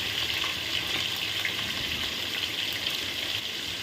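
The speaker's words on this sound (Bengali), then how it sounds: "দেখুন আমার আলুটা কীভাবে আমি ভাজছি।" Potatoes sprinkled with salt and turmeric fry in mustard oil in a pan, giving a steady, close, continuous sizzle throughout with no talking.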